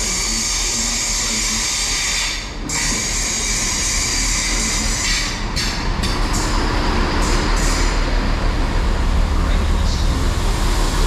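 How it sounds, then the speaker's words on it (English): The 15:10 Great Western Railway service from Westbury to Bristol Temple Meads rolls into Bath Spa station on the Great Western Main Line, a loud, steady rumble of wheels and engine with a few brief sharper clanks. "arriving in now is the 15:10 Great Western Railway service from Westbury to Bristol"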